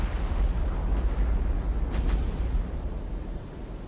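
Deep, rumbling blasts of bombs striking a cruiser in the naval game War on the Sea, set during an Allied Mediterranean campaign, as a heavy low roar with a sharper burst near the middle, fading slightly at the end.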